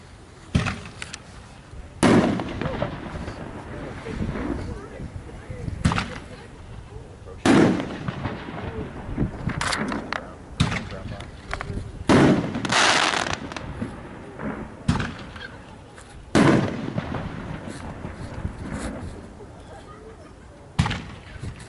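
Five 60-gram Pro Shells fireworks fired at a night demo in Kansas, each giving a sharp launch thump and a loud booming burst spaced a few seconds apart, with crackling and people talking softly between the shots.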